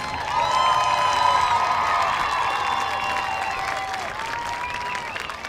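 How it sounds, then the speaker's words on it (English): Spectators at a high school football game applaud the Civic Memorial marching band before its first show of the season, with clapping, cheering and whoops that swell early and then ease off. "applause is more than appreciated from our audience"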